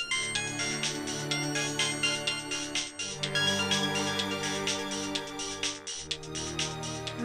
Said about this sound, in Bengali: কি সাহস মেয়েটার! কৃষের ফোনে ফোন করছে।